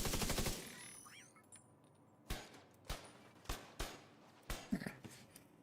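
Video game gunfire sounds as a rapid rattling burst at the start, then after a pause a string of separate sharp shots spaced roughly half a second apart, fairly faint overall.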